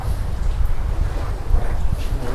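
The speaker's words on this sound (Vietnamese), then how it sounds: "Có gió rồi." Wind gusts near the sea outside a cave mouth at night, a steady, rough low rumble that buffets the microphone throughout, with no one talking.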